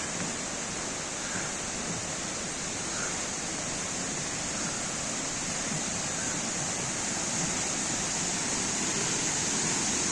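A Black Sea region waterfall pours in a steady, dense rush of falling water, even and unbroken throughout, with no voices.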